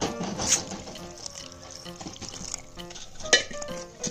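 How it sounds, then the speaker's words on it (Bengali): Pitha batter being stirred with milk in a bowl for patishapta, giving soft wet swishing and clinking of a utensil against the bowl, with a couple of sharper knocks, close and fairly quiet, no talking. "এবার আমি দুধ দিয়ে ব্যাটারটা গুলে নেব।"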